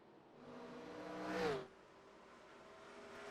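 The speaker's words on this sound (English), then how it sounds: "You hear those cars there when they get into 1 and 2, they're redlining" A 1987 Cup car redlines through turns 1 and 2 at Phoenix in a racing game, with a single engine whine that rises to a loud peak and then drops away as it passes.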